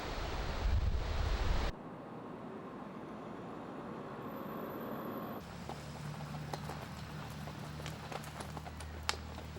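Waterfalls just below a hotel pour with a constant rushing roar, and gusts of wind buffet the microphone. The sound level shifts abruptly twice.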